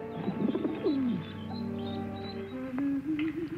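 Pigeons cooing nearby, soft low warbling calls that rise and fall over a steady background hum.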